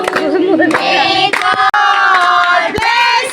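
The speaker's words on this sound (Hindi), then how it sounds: "ताली बजाओ, क्लैपिंग।" Guests at a child's birthday party at a grandmother's home clap along, with scattered hand claps under loud group singing and cheering.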